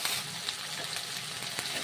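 Ground mustard paste stirred and fried in hot oil, a steady close sizzle with soft scraping stir strokes throughout, no talking.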